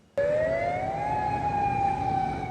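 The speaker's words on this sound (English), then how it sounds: "Mandatory evacuation sirens go off in Reddington shores as Hurricane Milton barrels towards the U.S. state of Florida" A mandatory hurricane evacuation siren wails in Redington Shores, Florida ahead of Hurricane Milton, a single steady rising tone sounding loud and continuous without any talk.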